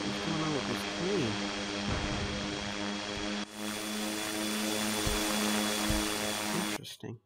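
A propeller airplane engine in the SimplePlanes VR game drones steadily with a constant hum and high whine, briefly dipping midway, then cutting off abruptly near the end, with occasional talk underneath.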